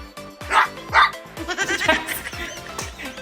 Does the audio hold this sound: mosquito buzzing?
no